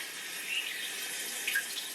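A Luxe Bidet Neo 180 bidet sprays a steady, hissing jet of water in a bathroom, a continuous close wash spray with slight surges and no talking over it.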